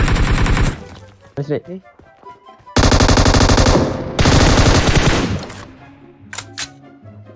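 Bursts of automatic gunfire sprayed in PUBG Mobile, loud and close, with two long sustained volleys and a few shorter shots between, while players talk briefly.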